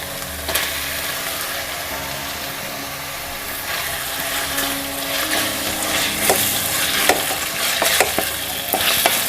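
Chicken pieces fry in hot oil in a pan for vermicelli chicken biryani, giving a continuous close sizzle with scraping stir strokes and occasional clinks of the spoon against the pan.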